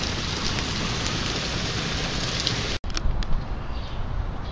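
Steady rain falls, a dense continuous hiss of drops on outdoor surfaces around a yard with lawnmowers, loud and unbroken apart from a brief dropout partway through.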